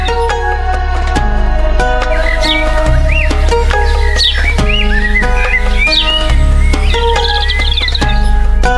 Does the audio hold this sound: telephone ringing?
no